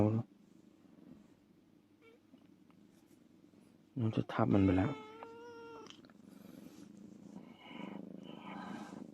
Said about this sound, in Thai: แมวเข้ามาได้ไง